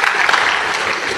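Audience applause, a dense, steady burst of clapping from a crowd that holds at an even level for just over a second.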